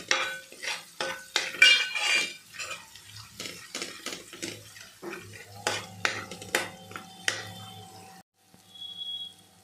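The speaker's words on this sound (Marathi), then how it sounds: "आता आपण चांगलं मिक्स करून घेऊया।" A spoon scrapes and clinks against a metal pot while stirring Malvani masala and a coriander-cumin powder mix for bombil curry. The scrapes come in quick, uneven strokes, close and moderately loud, then taper into a brief pause.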